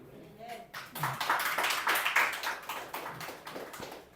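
Audience clapping during a church service, rising into a busy patter of many hands and holding fairly steady for several seconds, moderately quiet, with a voice partly overlapping.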